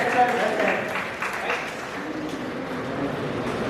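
Audience applause after a talk at a school session on communication and management, a steady patter of clapping that runs through the whole stretch with voices mixed in.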